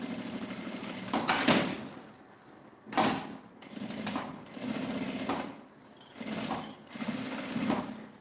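A Jack A4 sewing machine stitches fabric for a toiletry pouch in several close, steady bursts of whirring, separated by brief pauses, with no talking.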